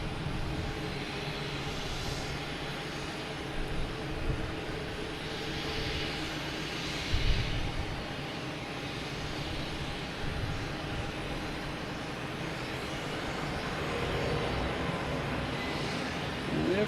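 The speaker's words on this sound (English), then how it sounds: "And we have takeoff." A Lufthansa airliner takes off at Boston Logan Airport, its engines roaring as a steady, broad rumble with a swelling whine near the end.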